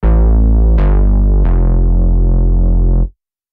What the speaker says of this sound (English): The first one is this Chorus Ballad Juno 60 preset from Trillion,